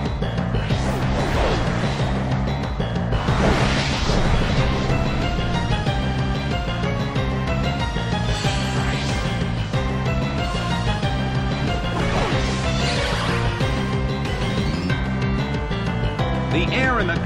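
Impact sound effect of a smashing attack landing in the Pokémon Battle Revolution video game, set in a colosseum battle, rising briefly out of loud, continuous game music with an announcer talking over it.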